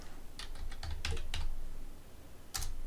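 Someone types on a computer keyboard while searching for U-bolts in a car mechanic game: a few scattered, quiet key clicks in quick bursts, then a short pause and a final tap, with no talk.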